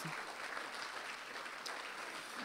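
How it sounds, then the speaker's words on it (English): A church congregation claps hands together in worship, producing dense, continuous applause that fills the room evenly without pause or talk. "together let's clap our hands and worship"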